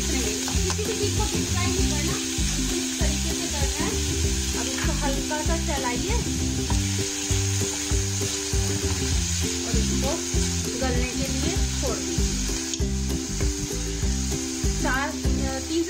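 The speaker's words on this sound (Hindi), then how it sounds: "अब ये मेरा ऑयल गर्म हो चुका है, अब मैं इसमें ये आराम से डाल" Cut, washed raw potatoes dropped into hot oil for sabudana khichdi: a dense, continuous sizzle with occasional stirring, heard close under a voice talking throughout.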